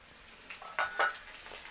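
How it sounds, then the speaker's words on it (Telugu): Spine gourd pieces being stirred in a frying pan, a couple of short scraping spoon strokes over a soft background sizzle, close and quiet, no talking. "ఒకసారి కలుపుదాము"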